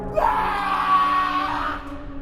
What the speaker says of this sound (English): His scream ripped through the silence of the garden.